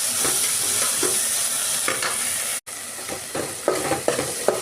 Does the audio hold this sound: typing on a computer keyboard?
no